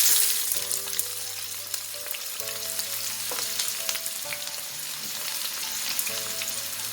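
Onion frying in oil with dried red chilies, cumin seeds and curry leaves, a steady close sizzle and crackle running throughout with a low hum beneath and no talking.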